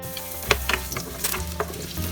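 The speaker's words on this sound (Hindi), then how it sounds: "मैं ऑलिव ऑयल यूज़ कर रही हूँ वेजिटेबल फ्राई करने के लिए, 1 टीस्पून ऑलिव ऑयल।" Potatoes fry in a teaspoon of olive oil for a mixed vegetable curry, giving a soft, even sizzle with a few sharper clicks and stirring scrapes. It is fairly quiet, with no talking.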